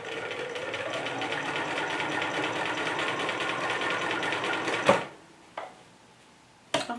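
A sewing machine runs steadily for about five seconds, stitching a Valentine's Day bag, then stops. A few sharp clicks and handling knocks follow in the quiet that comes after.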